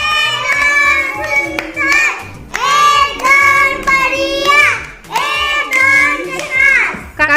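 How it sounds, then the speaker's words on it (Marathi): Schoolchildren in a classroom clap loudly for a classmate who solved a matchstick puzzle, in three bursts of brisk, uneven applause with children's voices and shouts mixed through. "कार्तिकीसाठी जोरदार टाळ्या वाजवा"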